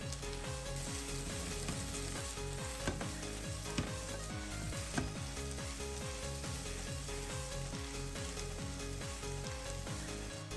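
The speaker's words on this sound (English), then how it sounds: "using the frying pan gives the cabbage a nice crispy texture" Cabbage stir-frying in a frying pan, a loud continuous sizzle with the scrape and clatter of stirring, close and steady with no voices.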